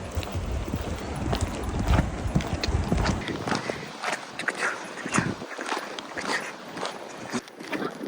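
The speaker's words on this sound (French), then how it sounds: "But I'm riding a horse." Horse hooves clip-clopping steadily as a rider travels through the mountains of Lesotho, close and continuous, with wind and outdoor rustle around them and brief talk in the background.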